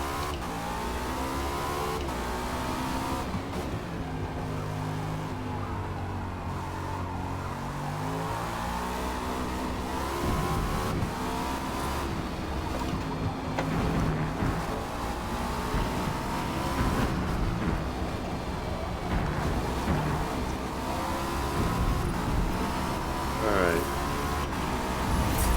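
A Cadillac V-Series.R race car at Catalunya in Forza Motorsport roars continuously, its engine climbing and dropping through revs and gear shifts, loud and close throughout, with someone talking over it.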